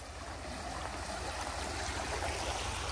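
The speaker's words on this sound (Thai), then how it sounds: "เป็นลำธารเล็กๆลำธารที่มันไหลมาจากภูเขาอ่ะมันไหลลงมาตรงนี้" A small mountain stream flows past a campsite in the Alabama Hills of the Eastern Sierra, a steady close rushing and gurgling wash of water, continuous and even, with no voices.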